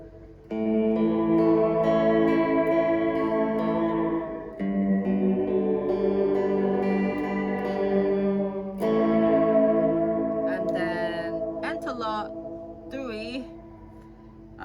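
A guitar runs through a Fender Reflecting Pool pedal set to a gated shape reverb, sustained chords swelling and then cutting off abruptly, followed by bright plucked notes with a wobbling, shimmering tail, loud and alone.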